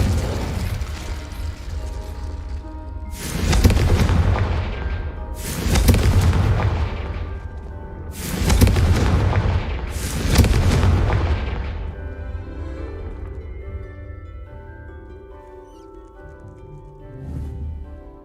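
Confringo blasting spell explosions in the video game Hogwarts Legacy: four heavy booming blasts in quick succession, each with a rumbling tail, followed by quieter fading debris and a final softer thump.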